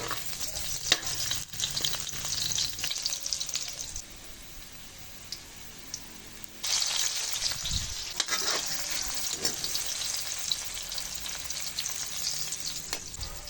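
Garlic and ginger sautéing in a pan of oil, a steady crackling sizzle with stirring scrapes; it quiets for a few seconds, then flares louder again as more is added.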